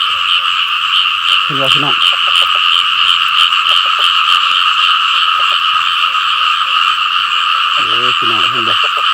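Frogs croak loudly and steadily in a dense night chorus, with short rasping calls near the start and end rising over constant insect-like trilling; someone speaks briefly in the middle.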